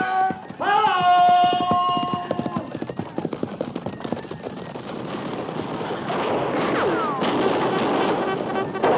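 Horses galloping in a western radio drama, a rapid clip-clop of hooves building over crashing, gunfire-like bursts and a busy battle din, with voices shouting beneath the commotion.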